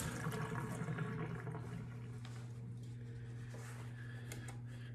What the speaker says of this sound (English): I'm gonna wash my hands off here.